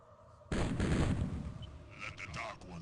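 Turrets fire in the OpenXcom WH40k mod video game: a sudden heavy blast that rolls out into a booming rumble, followed by scattered smaller crackling shots.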